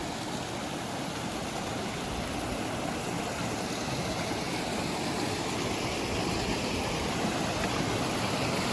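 Penchupadu waterfall pours in a steady, dense broadband roar that holds constant throughout, close and loud with no voices.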